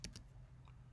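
A few quick clicks of typing on a computer keyboard, close and faint against a quiet background, with a couple of keystrokes at the start and one more near the end.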